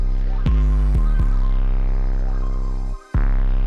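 Heavy distorted 808 bass notes in a trap beat boom and slide in pitch, several hits in sequence with gritty overtones, a brief dropout, then another deep hit.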